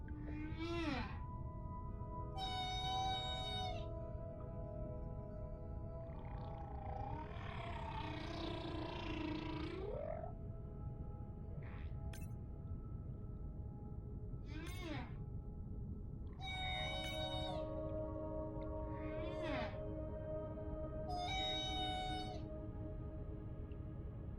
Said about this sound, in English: New whale!